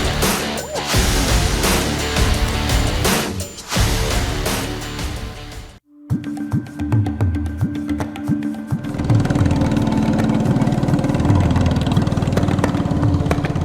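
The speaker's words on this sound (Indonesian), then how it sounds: "Deru mesin perahu Ces membawa kami ke dalam hutan rawa di sekitar sungai." A small motorboat engine drones steadily as the boat moves through swamp forest along a river, loud and close, with a brief cut partway through before the running engine resumes.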